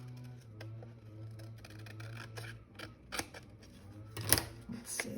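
Scissors trimming the edge of a paper Bible study trifold, a run of quiet close snips and paper rustles building to a sharper cluster of cuts near the end, with a low hum underneath.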